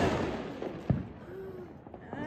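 A Diwali firecracker bomb goes off once with a single sharp, short bang partway through, amid family chatter and faint crackling in a home setting.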